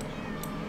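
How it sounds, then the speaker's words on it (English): A cat in the video game A Cat's Life gives a single short meow, fairly faint over a low background hum. "Stop meowing."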